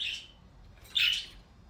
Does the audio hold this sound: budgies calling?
yes